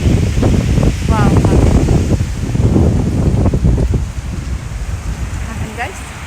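Strong wind blows outdoors in cold air and buffets the microphone with a loud, continuous low roar and rumble. Faint voices come through underneath.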